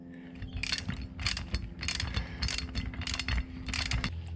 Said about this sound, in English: Take a 13mm spanner and a 13mm ratchet.